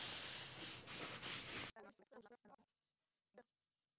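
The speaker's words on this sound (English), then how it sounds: "all right, I think this board over here on the bottom is ready to be wiped off" Paper towels wiping wood finish off a solid wood board with the grain: a loud, continuous rubbing swish for nearly two seconds that stops abruptly, followed by someone speaking quietly.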